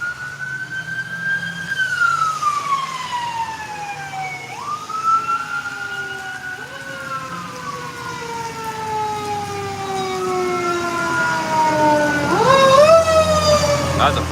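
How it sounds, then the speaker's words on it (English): A fire truck siren wails loudly, its pitch sweeping up and down in repeated cycles and dipping as it passes, over steady road traffic rumble for about fourteen seconds. "That was a fire truck."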